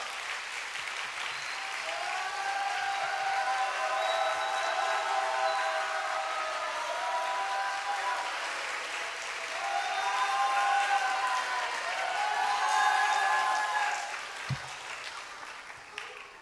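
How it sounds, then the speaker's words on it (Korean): A church congregation at a Sunday evening service applauds warmly as a guest pastor comes up to the pulpit, a sustained wash of clapping that swells twice in the middle, with faint speech mixed in. "힘찬 격려의 박수 부탁드리도록 하겠습니다"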